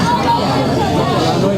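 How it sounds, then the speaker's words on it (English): An excited outdoor crowd waits for the August 2017 solar eclipse, filling the air with a loud, dense babble of many overlapping voices that continues without a break. "The crowd's getting really excited too."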